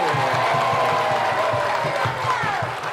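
A seminar crowd keeps up loud, continuous applause mixed with cheering and a few whoops, with voices running through the noise for nearly three seconds.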